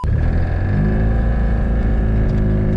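A Ligier JS50 Young microcar drives around a small roundabout, its engine giving a loud, steady droning hum heard from inside the cabin throughout.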